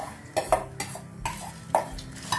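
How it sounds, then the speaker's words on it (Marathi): Toor dal being added to and stirred in a pot of boiling water, with several sharp metallic clinks of a spoon against the pot over a low bubbling simmer, close and fairly quiet. "त्यात आपण आता ही डाळ घालतो"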